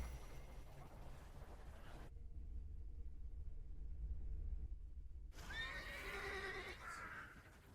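Horse whinnying in the video game The Thaumaturge: a loud, shrill neigh with a wavering pitch near the end, following a stretch of low rumbling ambience with hoof sounds early on.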